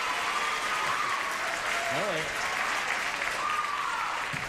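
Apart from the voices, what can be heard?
game show studio audience applause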